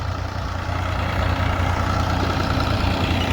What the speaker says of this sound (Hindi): और ये ट्रैक्टर आ रहा है